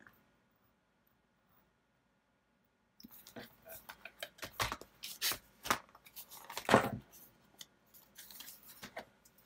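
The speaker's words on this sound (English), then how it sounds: "take my X-Acto knife and just cut along the edges of the ticket" An X-Acto knife cutting along the edges of a paper ticket, a string of short scratchy slicing strokes and taps after a silent start, irregular and close, with soft speech in places.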